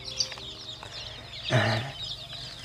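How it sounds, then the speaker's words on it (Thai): One-day-old chicks of mixed breeds in a brooding pen cheep in high, rapid peeps throughout, with a louder, lower clucking call from a bird partway through. "น้องไก่อายุหนึ่งวันนะครับ"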